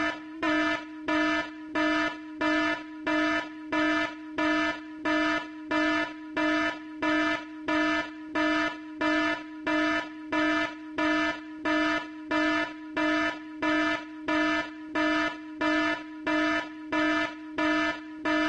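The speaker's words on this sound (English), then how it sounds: "Who did raise alarm?" Alarm raised in the Grando Action gangster mobile game, a loud, evenly pulsing buzzer-like horn repeating roughly once per second, sounding alone and unchanged throughout.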